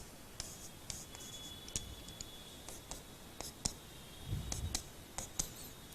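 Pen strokes on paper while sketching a chemistry diagram of xenon compound bonds, faint close scratching with sharp little taps at irregular intervals against a quiet room hiss.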